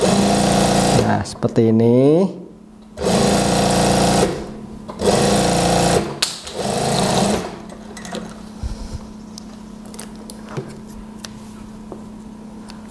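Electric sewing machine stitching the shoulder seam of a dress (daster), running in several separate bursts of steady whirring with short pauses, close and loud, while someone talks between runs.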